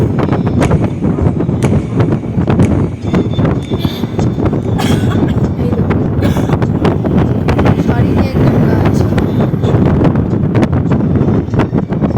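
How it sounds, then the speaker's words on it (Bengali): Strong wind roars steadily against the microphone in loud, continuous buffeting gusts near Mirik Lake in the North Bengal hills, with faint voices underneath. "মানে খুবই হাওয়া দিচ্ছে"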